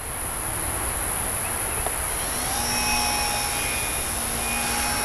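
Heard from the cockpit of a small airplane in flight, a loud, steady engine drone with propeller whine that holds constant throughout, close and continuous with no talk.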